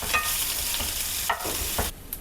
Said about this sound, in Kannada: ಎಲ್ಲನೂ ಹಾಕ್ಕೊಂಡು ಇವಾಗ ಚೆನ್ನಾಗಿ ಫ್ರೈ ಮಾಡ್ಕೊಳ್ಳೋಣ